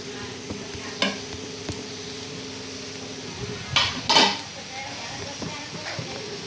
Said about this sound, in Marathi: आता आपण हे सगळे मसाले भाजून घेऊया